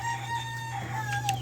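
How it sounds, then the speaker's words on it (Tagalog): Chickens cluck and a rooster crows nearby over a steady low hum, with no talking. "Hindi siya aso, hindi siya pusa, kundi manok."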